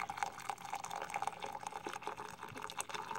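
Liquid trickles and splashes as eight ounces are poured into a double-wall stainless steel vacuum tumbler, a faint, close, continuous pour with small drips.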